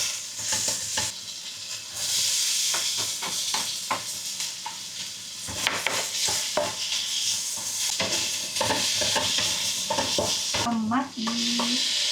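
Washed meat frying in hot oil for a Filipino dish, a steady close sizzle with repeated scraping stirs from a utensil in the pan throughout.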